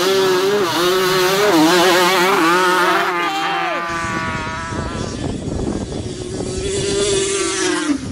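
Yamaha Banshee quad engines race side by side, a small and a full-size machine, their two-stroke notes revving loud and close, climbing and shifting before fading into rougher, more distant engine noise.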